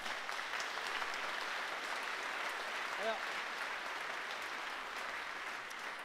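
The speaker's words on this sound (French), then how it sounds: "on peut vraiment l'applaudir pour cela" Applause from guests at a charity gala, a broad, even wash of clapping held at a constant level throughout, faint and distant, with a brief voice-like sound surfacing near the middle.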